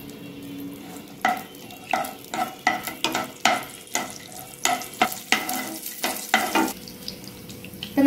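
Cashew nuts roast in hot ghee in a pan, a soft sizzle broken by a steady run of sharp scraping stir strokes, roughly one every half second, close and clear.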